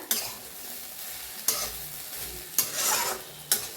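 Cluster beans (gavar) roasting in a pan, with several sharp stirring scrapes at regular intervals over a soft continuous sizzle.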